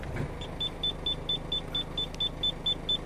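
Reverse parking sensor fitted to a Ford Fiesta, beeping steadily and rapidly at a high pitch because an obstacle sits behind the car, heard inside the cabin over a low engine and road rumble.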